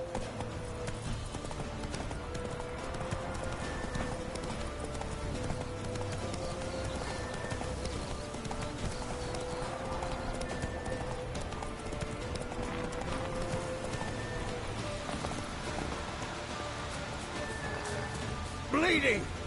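A horse gallops in The Witcher 3 video game, its steady clip-clop hoofbeats running continuously under game music and ambience, ending with a brief louder burst.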